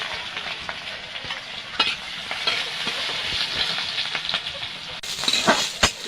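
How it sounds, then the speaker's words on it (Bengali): Chopped onion and garlic fry in hot oil with a constant close hiss and frequent crackles, ending in a sharper burst of sputtering. "পেঁয়াজ রসুন এভাবে লাল লাল করে ভেজে নিতে হবে।"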